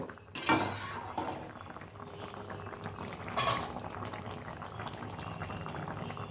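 A pot of taro and tilapia curry simmering, a continuous soft bubbling close by, broken by a couple of brief metallic clanks against the pot.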